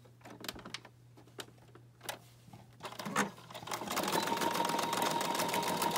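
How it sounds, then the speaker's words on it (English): Sewing machine running a straight stitch through a junk journal cover, starting with a few separate clicks and short bursts, then settling into a steady, continuous mechanical whir that grows louder toward the end. "So what I'm going to do is I'm just going to do a straight stitch."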